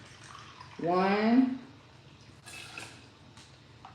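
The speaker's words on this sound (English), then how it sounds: "And just put 2 cups of water in here." Bottled water, about two cups, gushes into a cooking pot in a home kitchen, a short rising pour lasting under a second before fading to quiet handling noises.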